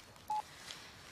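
A single short telephone keypad DTMF tone sounds once, brief and faint, over quiet room hiss.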